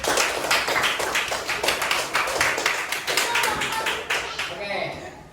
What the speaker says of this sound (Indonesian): Tepuk tangan untuk kelompok kinestetik.